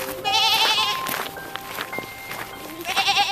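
A cartoon goat in an animated village story gives two loud, wavering bleats near the start and end, with softer sound effects in between.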